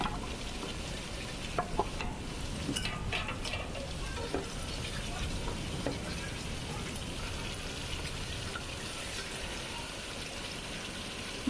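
Fried chicken pieces stirred into cooked spice masala in a pan, a soft continuous sizzle with occasional scraping clicks of the spoon against the pan, no one talking.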